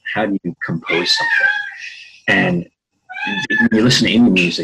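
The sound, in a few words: cat meowing in the background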